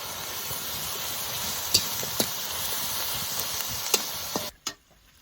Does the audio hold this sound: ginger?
yes